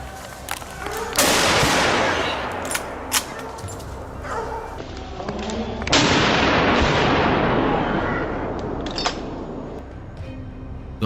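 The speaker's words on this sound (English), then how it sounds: "let a precise burst of shots fly, leaving the hog no room to escape" Gunfire during a Texas wild hog hunt on farmland, a burst of shots at a boar: two heavy, loud blasts with long rumbling decay, separated by a few seconds, plus sharper cracks scattered across a noisy outdoor background.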